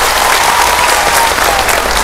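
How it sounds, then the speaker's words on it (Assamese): An audience at a women's empowerment event in Chapakhowa claps in a dense, loud burst of applause that holds steady without pause. "ডাঙৰ হাত চাপৰি বজাই দিয়ক"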